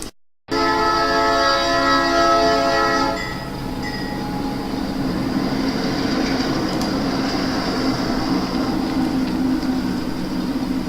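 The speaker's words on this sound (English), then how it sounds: "The KP&W train slows to a stop at the junction with the river line" A KP&W model railroad train slows to a stop at a junction on a layout, opening with a loud sustained horn chord that cuts off after a few seconds, then a steady rumbling roll that keeps going and fades only slightly.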